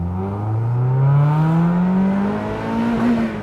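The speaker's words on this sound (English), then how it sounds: "I'm that guy revving his Miata now" A stock Mazda Miata NB engine revs up steadily in pitch, holds high, then eases slightly, loud and close with no talking.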